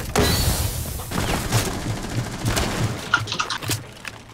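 Gunfire in Rainbow Six Siege on the Plane map, muffled rapid shots and thuds cracking through an ongoing hiss, some bursts louder and closer, with a few scattered impacts near the end.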